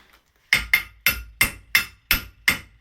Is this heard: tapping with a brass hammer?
yes